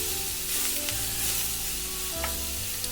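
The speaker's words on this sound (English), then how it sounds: "So we stir these in the pan, in the frying pan." Bean sprouts sizzle and fry steadily in a hot frying pan, with occasional scrapes and stirring noises as they are tossed; no voices.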